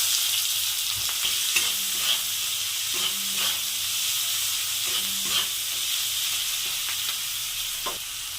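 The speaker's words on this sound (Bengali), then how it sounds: "পেঁয়াজটা লাল লাল করে ভাজা হয়ে গেছে" Chopped onions frying in oil with cloves, cardamom, cinnamon and bay leaf, browning to red for a cauliflower, potato and rohu fish curry. A continuous close sizzle carries periodic stirring scrapes and clinks, with no voices.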